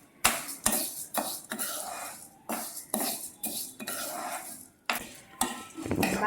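Toor dal roasting in a pan is stirred with a metal spoon, making repeated sharp scraping clinks against the pan in an irregular rhythm, close and fairly loud, with a faint dry rattle of lentils.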